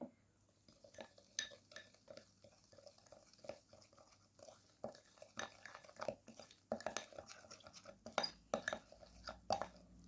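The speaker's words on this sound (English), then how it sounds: "Keep mixing the ingredients until they combine very well together like so." A utensil stirs milk and other ingredients into a thick cream paste in a bowl, quiet close clinks and wet tapping in an uneven rhythm, growing busier toward the end, without speech.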